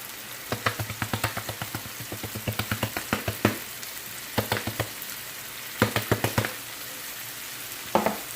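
Boiled ackee and black pepper fry in a pan in Jamaican-style cooking, with bursts of crackling sizzle and quick scraping stirs coming in rhythmic clusters, close and clear, no talking.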